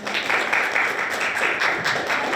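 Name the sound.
audience applause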